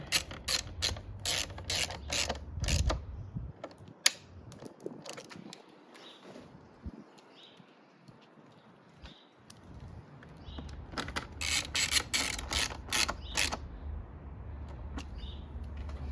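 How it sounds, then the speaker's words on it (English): Bolts being threaded in with a 4mm Allen key while fitting an integrated taillight and tucked mount on a 2022 Yamaha YZF-R7, rapid ratchet-like clicking in bursts, a quieter pause midway, then another fast clicking run. "So you're gonna grab these bolts with the 4mm Allen again, and then thread them into these spots right here."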